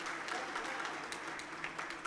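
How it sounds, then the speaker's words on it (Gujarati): An audience applauds at a felicitation during a Surat talk program, a soft, steady patter of clapping heard from a distance. "જોરદાર તાળીઓથી આપણે આ સન્માનને વધાવીએ."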